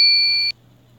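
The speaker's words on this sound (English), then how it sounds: "excuse the beep, and I did not turn off my notifications" A phone notification beep sounds loud and close, a single steady two-tone electronic tone lasting about half a second, then cuts off abruptly into quiet room hiss.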